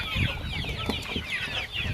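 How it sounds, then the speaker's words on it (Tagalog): Several chickens cluck continuously in a busy chorus on a farm in Bohol, close and fairly loud, with overlapping chirps and squawks. "Ari ang mga manok ni mga katupay daghana oy."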